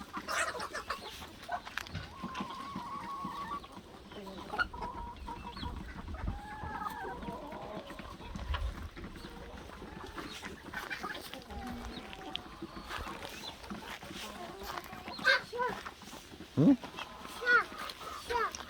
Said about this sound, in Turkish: sultan tavuklarına bak